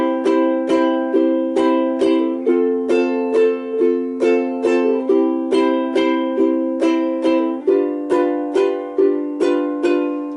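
A ukulele strummed with steady down strokes, moving through a series of chords at an even, unhurried pace, close and clear with no voices.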